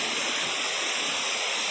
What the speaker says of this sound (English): mountain waterfall